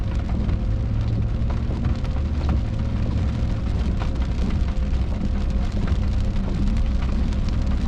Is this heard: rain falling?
yes